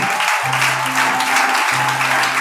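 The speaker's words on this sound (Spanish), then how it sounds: "Dale ese aplauso al Señor" Church congregation applauding loudly and steadily as a dense, continuous wash of many hands, with a sustained tone running underneath throughout.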